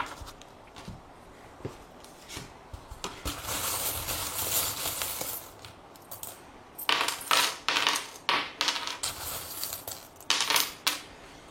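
Small metal charms tossed for a divination reading, clinking and rattling with light scattered taps and a few sharper jingly bursts near the end, heard alone without speech.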